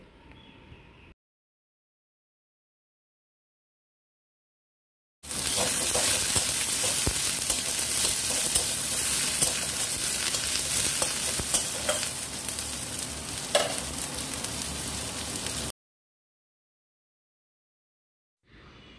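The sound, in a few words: chopped onions being stirred and fried until reddish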